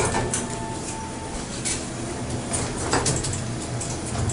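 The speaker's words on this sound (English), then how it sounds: "Door close works when you push the button" Doors of a Montgomery hydraulic elevator in a department store at a mall slide shut with a soft mechanical whir and a few light knocks, moderately close against a steady background hum.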